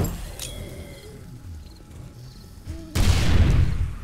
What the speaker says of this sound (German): Ah, das sind die Kontaktgranaten. Ja, die explodieren, glaube ich, sofort